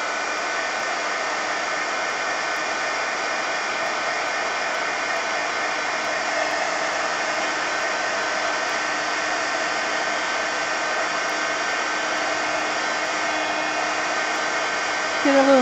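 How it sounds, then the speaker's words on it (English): A heat gun dries matte medium on art cards, blowing a constant, loud whirring hiss that holds steady the whole time with no break. "with the heat gun just to kind of glue the, I mean, dry the matte medium a little"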